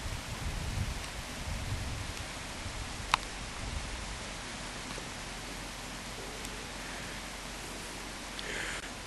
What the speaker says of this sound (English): it's actually raining at the moment